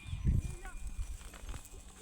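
A grazing cow lows briefly near the start amid outdoor farm background noise, followed by faint shuffling and scattered animal sounds.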